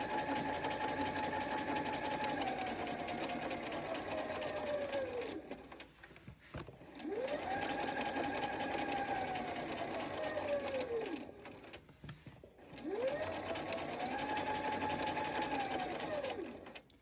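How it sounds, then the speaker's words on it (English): A sewing machine top stitches a Sew Together bag in three steady, whirring runs of even rapid needle strokes with brief pauses between, close and loud. "I'm gonna top stitch"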